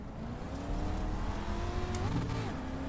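Dirt street stock race cars launching at the green flag on the Dirt Charlotte track in iRacing, engines revving and climbing in pitch together as the pack accelerates.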